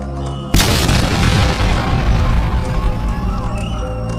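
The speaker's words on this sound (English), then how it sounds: "eventually, the bombs explode" A bomb blast at a marathon, one sudden loud boom followed by a long roaring rumble and crowd noise that stays dense and heavy, heard close and alone.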